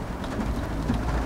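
Steady rain and road spray hiss around a rental car driving on a wet road in Japan, a continuous broadband wash with low rumble, no voices.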